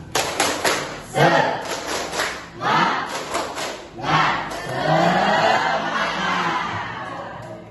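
A school class claps a rhythmic spirit cheer together at the start of a morning lesson, the claps landing as loud bursts in a steady pattern, followed by a sustained crowd shout and some voices.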